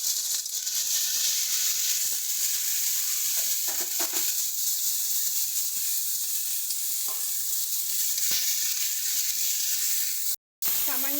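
Turmeric, salt and spices stirred in a frying pan, making a steady close sizzle with scraping stir strokes throughout, broken by a brief dropout near the end.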